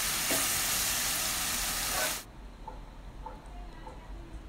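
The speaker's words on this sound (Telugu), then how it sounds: "గోల్డెన్ బ్రౌన్ కలర్ వచ్చేంత వరకు ఆనియన్స్ని మనం ఫ్రై చేసుకోవాలి" Onions frying in a pan until golden brown in a home kitchen: a loud, dense sizzle for about two seconds that cuts off abruptly, followed by quieter background with faint voices.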